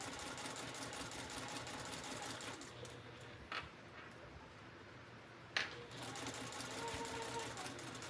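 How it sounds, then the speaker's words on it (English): A sewing machine hums steadily at close range while stitching around the handle sections of a liner for a small Longaberger road trip basket, easing off briefly before running on. "So I'm going to just sew around it."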